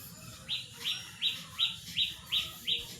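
Birds calling in a village: a regular series of about eight bright, clear chirps, evenly spaced roughly every third of a second, fairly close over a low murmur of background noise.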